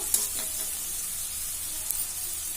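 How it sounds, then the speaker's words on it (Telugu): Bitter gourd pieces frying in a pan, a steady close sizzle and crackle with a few light scrapes of stirring, no voices. "ఇప్పుడు కాసేపు వేగనిస్తాను వీటిని."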